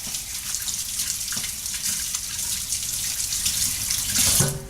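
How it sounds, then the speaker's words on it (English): A kitchen tap runs in a steady, close splash as fingers are rinsed under it while preparing a Christmas prime rib, with a brief clatter near the end. "Now you rinse off your fingers one more time."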